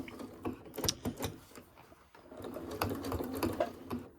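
A sewing machine stitches an oven dress towel with a quick, steady mechanical patter, fairly quiet and close, pausing briefly midway before resuming.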